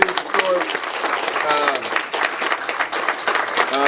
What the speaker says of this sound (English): So, hand clap.